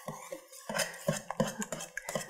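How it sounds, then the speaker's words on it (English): A whisk works eggs into yeasted waffle batter in a bowl, with quick irregular metal clinks and scrapes against the bowl and soft wet stirring, close and moderately loud. "So now I'm going to put the eggs into the rest of the batter. And again, I'm going to use the whisk"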